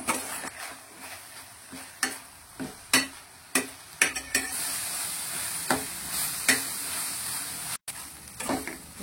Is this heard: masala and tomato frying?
yes